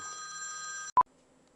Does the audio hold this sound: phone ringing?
yes